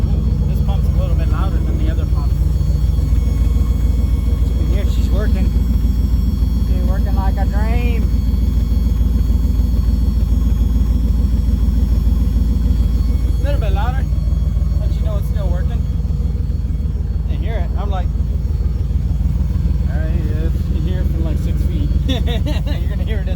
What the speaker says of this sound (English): This pump's a little bit louder than the other pump. You can hear she's working.